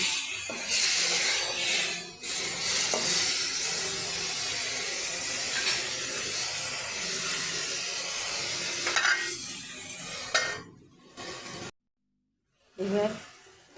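Potatoes for Bengali aloo kosha sizzle steadily in a pan with a splash of water, with stirring scrapes over a constant close hiss; a few sharp clatters near the end, a brief total silence, then the sizzle returns.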